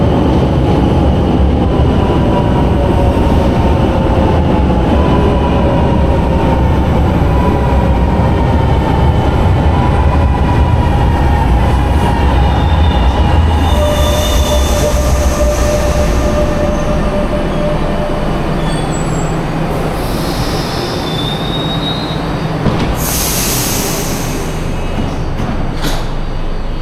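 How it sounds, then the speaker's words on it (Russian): A train rumbles loudly and steadily as it arrives at a station, with metallic wheel squeals and high screeches rising near the end. "Извините, прибытие поезда с другой стороны."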